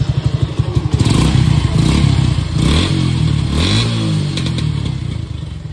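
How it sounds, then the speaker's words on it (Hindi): A Yamaha FZ motorcycle with a modified stock exhaust idles with a loud, close, throbbing burble, then revs up sharply twice and settles back. No one speaks. "मुझे तो सीमलेस दिख रहा है एग्जॉस्ट हमारा एंड साउंड चेक करूँगा"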